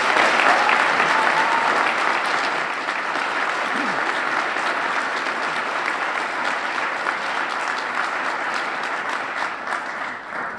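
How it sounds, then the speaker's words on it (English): A crowd at a town Board of Selectmen swearing-in ceremony in Guilford applauds town employees, sustained many-handed clapping that holds steady for about ten seconds, then fades slightly toward the end. "a round of applause for Guilford's employees,"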